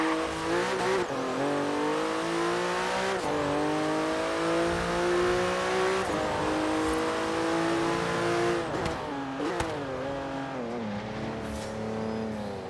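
Car in Forza Horizon 3 accelerating toward top speed on a highway, engine revving loudly through rising pitch sweeps broken by several gear shifts, continuous and close.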